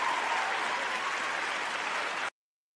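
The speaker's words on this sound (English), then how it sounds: "let's give Flex a hand clap on" Steady hand clapping applause from a small group, even and continuous at moderate level for about two seconds before cutting off abruptly.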